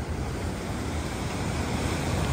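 Atlantic Ocean surf rolling in along the beach at San Juan, Puerto Rico, a steady broadband wash with wind noise on the microphone, continuous and fairly loud with no voices.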